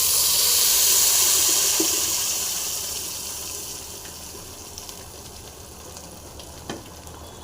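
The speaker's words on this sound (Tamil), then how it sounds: "இப்போ ஜீரகம் பொறிஞ்சிச்சுங்க சட்னி ஊற்றிடலாம்" Cumin seeds spluttering in hot oil in a clay pot while cooking chicken gravy: a loud, steady frying sizzle that gradually softens, with a few sharp pops near the end.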